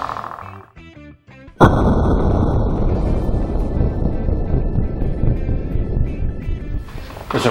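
A .308 rifle fired through a Precision Firearms LMD muzzle brake at a SHOT Show 2017 shootout: one sharp, very loud blast after a quieter lead-in, followed by several seconds of rumbling, noisy decay.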